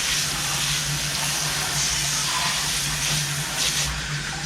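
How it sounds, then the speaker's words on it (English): Steady, hissing spray of water rinsing dry-blasted old motorcycle parts, a close, continuous gush with a low hum beneath it. "We'll just rinse that shit off of that."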